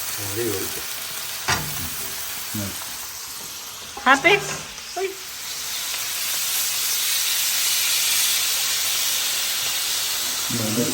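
Steak sears with herbs in a hot pan, a broad steady sizzle and steam hiss that swells through the middle, broken by short bursts of clinking and stirring.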